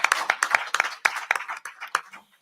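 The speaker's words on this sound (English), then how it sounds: "let's give a round of applause to our candidates, guys" Crowd at a Ward 7 council candidate forum clapping for the candidates, a moderate scattering of hand claps that thins out and fades toward the end.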